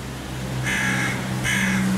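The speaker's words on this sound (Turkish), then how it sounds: "Kargalar akıllıdır." A young carrion crow gives two loud, harsh caws in close succession, close up, over a steady low background hum.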